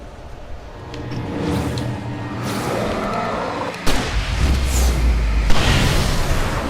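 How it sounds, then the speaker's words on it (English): Booming explosions in the Alan Wake Remastered video game, several heavy blasts and rumbling impacts layered over dense game noise, loud and fairly close. "It looks like it made an explosion in the background as well."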